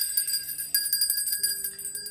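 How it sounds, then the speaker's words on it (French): A ritual bell rung during a religious ceremony to call the spirits, giving a bright metallic ringing with rapid repeated strikes and sustained high overtones, close and alone without speech. "Et pourquoi je sonne toujours la cloche?"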